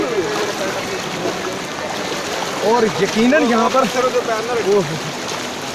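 Fast-flowing river water rushes steadily as a broad, constant roar on a trip in Azad Kashmir and Naran Kaghan, with someone talking over it partway through.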